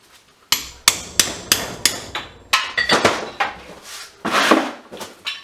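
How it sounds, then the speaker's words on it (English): Chisel struck repeatedly with a hammer to cut in a shed, a dozen sharp close metallic blows in a steady rhythm, then a quicker cluster of heavier strikes. "if we just get it to cut cleanly here with the chisel"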